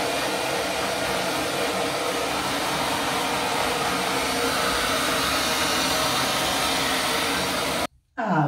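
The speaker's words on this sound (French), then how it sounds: "on va sécher les cheveux avec un sèche-cheveux" A hair dryer blows steadily and loudly at close range for about eight seconds, then cuts off abruptly near the end.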